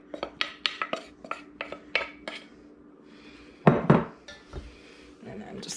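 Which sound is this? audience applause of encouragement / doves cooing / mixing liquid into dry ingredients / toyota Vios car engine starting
mixing liquid into dry ingredients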